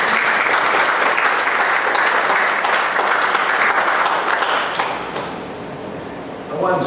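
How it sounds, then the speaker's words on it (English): Loud, dense clapping from a meeting audience fills the room for about five seconds, then thins and fades as the applause dies down. "Give him a round of applause."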